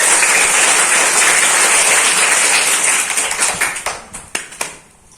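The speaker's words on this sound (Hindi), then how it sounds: "समीर के लिए जोरदार तालियां बजाइए।" Schoolchildren at a student parliament formation give a loud round of clapping for a student named Sameer. Dense applause thins out into a few scattered final claps before stopping.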